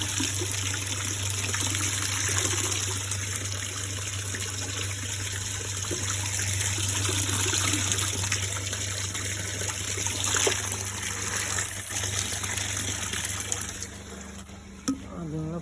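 Liquid Speed+ growth product for a maize crop pours steadily into a container, a continuous trickling splash over a constant low hum, with a few faint voices in the background.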